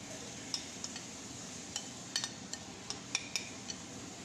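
Ingredients are stirred together in a bowl, giving quiet, scattered clinks and taps of a utensil against the dish at an uneven pace over a soft background hiss.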